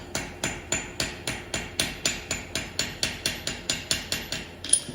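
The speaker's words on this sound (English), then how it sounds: "I'm gonna actually just hammer this little ball nice and flat right here." Small metal ball being hammered flat on an anvil for jewelry making: about twenty steady, evenly spaced sharp metallic taps, close and clear, with no talk.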